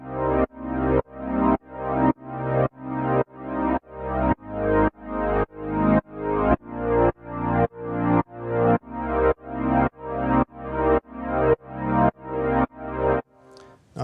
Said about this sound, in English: Here I have a synth sound with pump switched on.